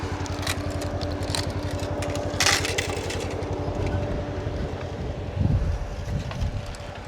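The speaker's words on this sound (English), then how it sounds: "the wind really picked up, so it's hot and windy now" Strong wind gusting on a hot day outdoors on a farm during haying season, roaring and buffeting close against the microphone in a continuous rumble with brief louder gusts, no talk.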